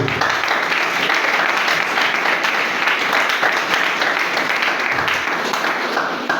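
A church congregation applauds and claps steadily through a worship service, a dense, continuous wash of clapping at even loudness with faint voices mixed in.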